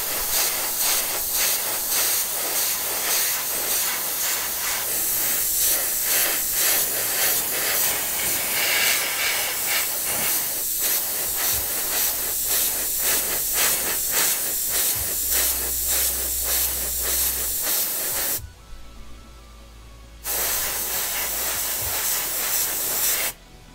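Spray can painting parts for a 1/14 scale Tamiya Volvo FH12 RC truck: a long, close, steady hiss, a brief pause near the end, then the spraying resumes, with no voices.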